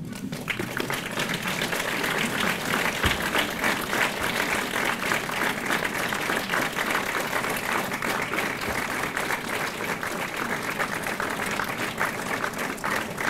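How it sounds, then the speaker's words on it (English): Graduates at a school commencement ceremony give their families and friends a sustained round of applause, a dense, even wash of many hands clapping that fills the hall without a break for over ten seconds. "turn around, and give your family and friends a hearty round of applause"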